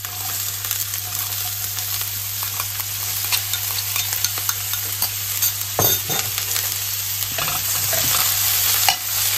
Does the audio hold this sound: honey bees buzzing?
no